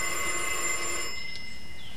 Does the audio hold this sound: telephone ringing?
yes